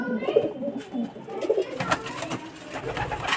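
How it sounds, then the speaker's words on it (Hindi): About fifty domestic pigeons coo close by in soft, repeated throaty calls, with some low rustling and background noise between them. "ये 50 कबूतर है।"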